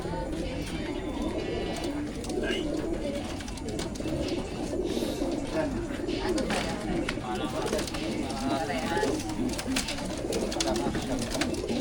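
Racing pigeons packed together in a single crate, a dense, continuous chorus of cooing and rustling close by, with people talking over it throughout.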